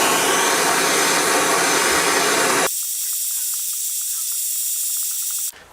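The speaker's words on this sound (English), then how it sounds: "Also, I've used map gas, which is a bit hotter" A MAP gas torch heats a seized part, giving a loud, steady roaring hiss that drops abruptly to a thinner hiss about halfway through before cutting off at the end.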